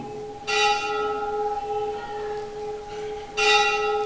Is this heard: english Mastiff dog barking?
no